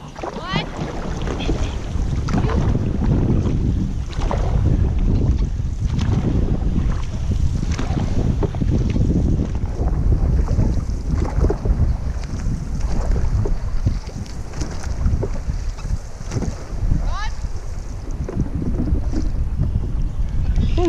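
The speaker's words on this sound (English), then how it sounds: "Paddles up. 10 strokes, go." Dragon boat crew paddling on open water, steady rhythmic splashing strokes under constant wind rumble, with a voice calling out commands over the water.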